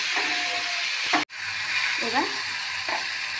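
Spices frying in oil for a fish curry, a continuous close sizzle with a few scraping stirs and one abrupt cut, while a voice speaks a single word.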